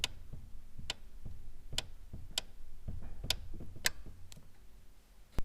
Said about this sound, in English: Here's an example of clicks you will hear.